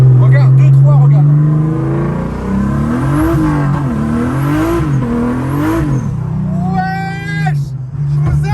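A turbocharged BMW E36 pulls hard in third gear on low boost, its loud engine note rising and wavering close by over the full stretch, with a high whine near the end and people talking over it.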